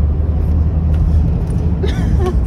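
Low, steady road rumble and engine drone inside a moving car, heavy in the bass, with brief voice fragments rising over it near the end.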